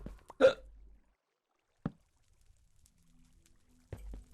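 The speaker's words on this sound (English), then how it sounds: "Oh, sorry, I got the hiccups." Hiccups from a person during a podcast-style chat, one sharp loud hiccup near the start followed by a softer one and a faint third, separated by near silence.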